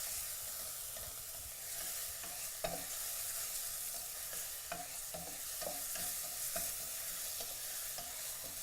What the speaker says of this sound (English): Now I want to get these onions nice and brown.